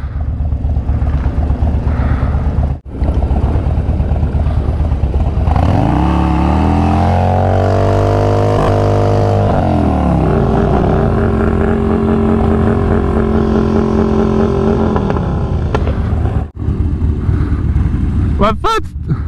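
A Harley motorcycle revs and races on a drag strip. The engine is loud and close, with rising and falling rev sweeps and sustained roaring acceleration throughout.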